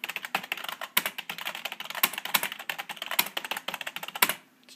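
Rapid, irregular clatter of keys being typed on a Logitech K120 computer keyboard, close and fairly loud with no talking, stopping abruptly just before the end.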